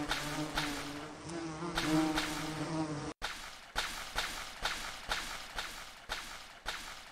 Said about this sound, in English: What is that buzzing though?